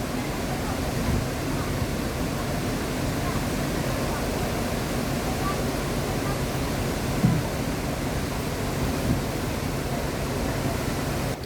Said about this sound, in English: that's where water comes in around the lock chamber